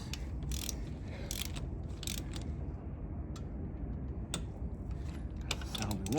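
A torque wrench clicks while tightening wheel lug nuts on a 2003 Honda Civic Si EP3 during a wheel spacer install, with a few sharp clicks scattered over a steady background hum outdoors.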